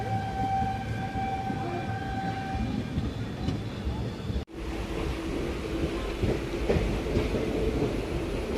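Tiruvannamalai Circular Express train, a steady rumble with tonal siren-like horn lines at the start, a brief dropout mid-way, then continuous rolling noise with voices in the background.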